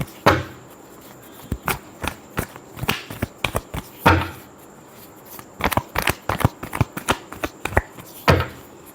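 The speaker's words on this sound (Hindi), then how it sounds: "Last shuffle." Tarot cards are shuffled in a string of sharp, separate snaps and slaps, uneven in rhythm, close and crisp against near silence.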